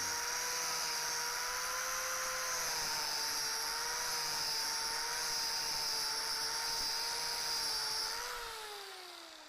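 A high-pitched power carving turbo plane whines steadily as it cuts into timber, holding a constant tone before winding down near the end.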